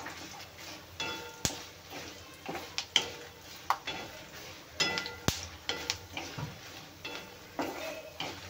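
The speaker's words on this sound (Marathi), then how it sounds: "आणि हे छान आपण व्यवस्थित भाजून घेऊया।" Peanuts and red chilies dry-roasting in a pan for a chutney, with a soft, steady hiss under frequent clinking and scraping strokes as they are stirred, close by and with no talking.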